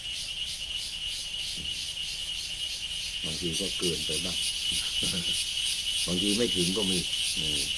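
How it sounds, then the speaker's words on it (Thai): A loud, steady drone of cicadas fills an outdoor evening scene at a temple, continuing throughout while someone speaks over it in a calm, measured voice. "คงจะต้องพูดให้จักจั่นฟังแล้ววันนี้ เสียงนกก็มีเสียงนกแควก แควกแควก"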